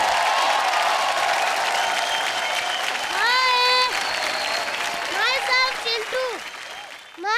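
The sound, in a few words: audience applause for Chintu and Karan on comedy show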